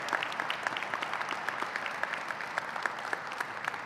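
A crowd applauds at a community ice center grand reopening, a steady, dense round of clapping with many individual claps audible throughout, moderately close and without talk over it.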